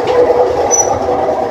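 Inside a moving train, a steady rumbling drone of the carriage fills the space, loud and close, with a brief high squeal of wheels.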